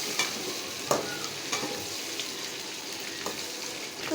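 Eggs fry in a pan with a steady, even sizzle, punctuated by a few sharp spatters and stirring taps, moderately close and without any voices.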